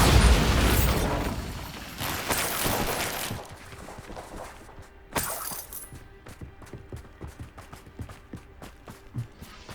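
A Bombarda blasting spell goes off in Hogwarts Legacy, a loud broadband burst at the start that rumbles and decays, followed by scattered debris clatters, pops and footsteps.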